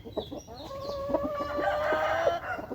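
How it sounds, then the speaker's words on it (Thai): A fighting rooster of the Samee Suwan bloodline clucks briefly, then lets out a long, loud crow from close by in a farmyard setting. "เป็นไก่ตีไก่เจ็บครับ"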